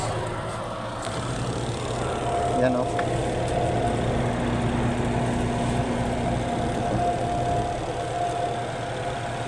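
A washing machine wash motor hums steadily with a low drone and faint whine, running continuously while someone speaks briefly over it.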